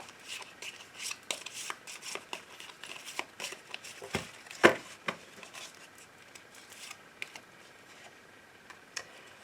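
Oracle cards are shuffled by hand during a love reading, giving soft, quiet, irregular riffling and tapping clicks with occasional sharper snaps.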